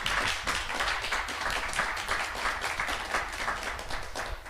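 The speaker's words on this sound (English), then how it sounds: "Let's give them another round of applause." At a networking event, an audience applauds its guests with faint, even clapping that forms a soft, continuous patter and stays level throughout.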